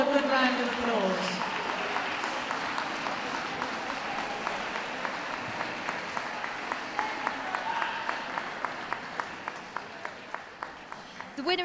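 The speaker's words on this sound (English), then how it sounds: "Come on, give all a good round of applause." Audience applause around a dog show ring, a broad clapping wash that thins out into a few scattered, distinct claps toward the end.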